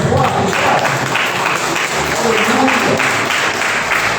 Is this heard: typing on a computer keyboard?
no